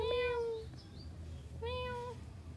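A cat gives two drawn-out meows about a second apart, fairly close and clear over a low steady background hum.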